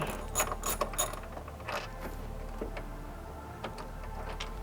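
A ratchet spins out the strut mount bolts on a 2020+ BMW M2 (G87) during a suspension install, fast metallic clicking bursts close up, then lighter intermittent ticks over a low steady background hum.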